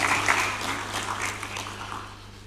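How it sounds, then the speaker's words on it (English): Audience applause at a groundbreaking ceremony in Kenya, a steady wash of clapping that slowly fades, heard over a low electrical hum. "Let's give a warm applause again"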